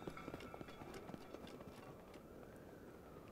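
Horses gallop in The Legend of Zelda: Breath of the Wild, a quick, uneven patter of hoofbeats over a soft background bed, faint and steady throughout.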